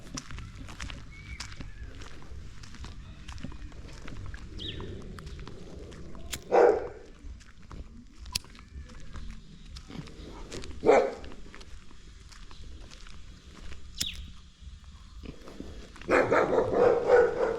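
Dogs barking outdoors near Fort Amiel: a few sharp barks at irregular intervals over a quiet background with faint footsteps, and a louder flurry near the end.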